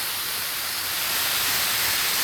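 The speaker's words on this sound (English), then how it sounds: "So that way you get a nice light spray and hold the gun back." Spray gun spraying headliner adhesive onto a car's sagging headliner, a steady close hiss of atomized glue that continues evenly without pause.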